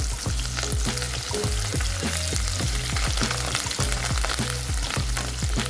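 Curry leaves frying in oil in a pan for masala Maggi noodles, a loud, steady sizzle close by, with repeated scraping clinks of a spoon stirring the pan.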